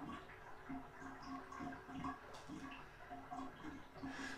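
Water drains and gurgles down a sink drain that has just been cleared of a clog, a quiet, steady trickle with soft bubbling pulses throughout.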